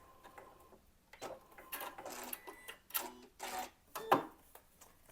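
A sewing machine stitches foundation paper piecing for a square-in-a-square quilt block in short, separate bursts of rapid mechanical clatter, close and fairly quiet, with pauses between runs.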